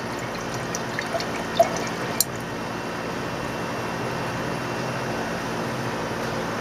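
Liquid pours steadily into a tall, narrow glass beaker during gold refining from computer scrap, a continuous close trickling wash with a couple of faint clinks early on and no speech.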